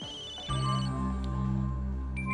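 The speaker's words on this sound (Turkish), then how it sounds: "Telefonu mu çalıyor bunun?" A mobile phone ringing indoors in a home, its electronic ringtone starting abruptly after a quiet moment and continuing steadily and loudly, with no one speaking.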